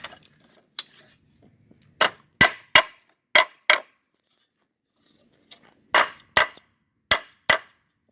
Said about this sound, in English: hammer down those burrs and we're done.